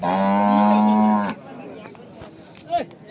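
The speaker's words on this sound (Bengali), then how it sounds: "আমরা দেখছিলাম এখানে একটি গরুকে চমৎকার গরুটি" A dairy cow at a village cattle market lets out one loud, close moo that lasts about a second, followed by quieter market background noise and a brief faint sound.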